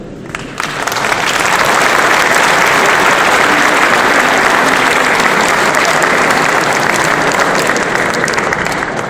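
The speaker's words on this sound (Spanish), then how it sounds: "Aplauso más para el doctor." Lecture-hall audience applauds a doctor after a statics short-course talk, a loud dense wash of clapping that holds steady for nine seconds without pause.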